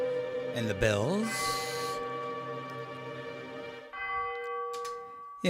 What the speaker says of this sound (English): And the bells.